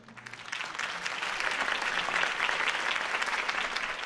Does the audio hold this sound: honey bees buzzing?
no